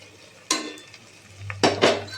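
Chilli powder, garam masala and biryani powder are stirred into vegetables for vegetable biryani. A few sharp spoon scrapes and clinks against the pan come close up, with short gaps of near quiet between them.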